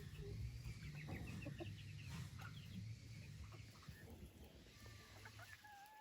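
Frizzle chickens cluck in a backyard coop, several hens giving short, repeated clucks and soft calls at close range, with occasional higher chirps over a low murmur.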